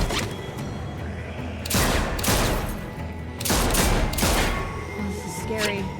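Video game gunfire comes in rapid bursts of repeated shots, loud and close, with clattering mechanical sounds between the volleys.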